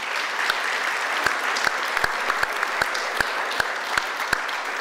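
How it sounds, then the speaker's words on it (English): A sizable audience claps steadily at a civil rights anniversary event, with a dense wash of applause and a few sharper individual claps cutting through, heard without talk. "Round of applause for Beverly"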